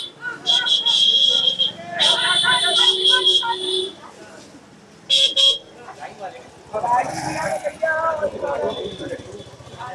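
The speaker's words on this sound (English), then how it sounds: "That's the uncle honking desperately." Repeated car horn honks, loud and close, sounding in bursts over busy street noise with voices talking in between, in a market lane in Varanasi, India.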